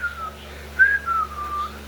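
A person whistles a short wavering tune, a thin slightly breathy tone sliding up and down in a few brief phrases, close and moderately quiet, no talking.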